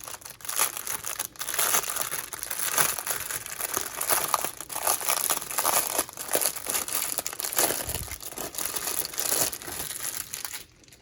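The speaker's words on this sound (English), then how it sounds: "Stick your fingers in your ears while I rip this open." A package is ripped open at an unboxing, with loud, continuous crinkling and tearing of plastic wrapping close by for about ten seconds before it stops abruptly.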